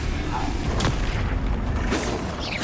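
A Bombarda spell explodes in a wizardry video game, a couple of sharp booming bursts over a dense, continuous rumble of game sound, loud and close.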